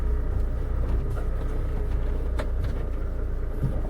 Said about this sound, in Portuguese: conforme passa em desnível ele faz um barulho muito feio, muito estranho